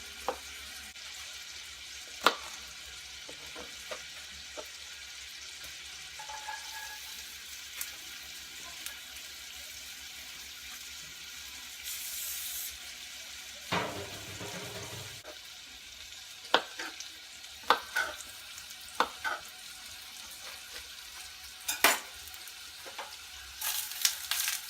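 Bacon crisping in a cast iron pan gives a quiet, steady background sizzle, with scattered sharper clicks and clatters of utensils and a brief splash of running water midway.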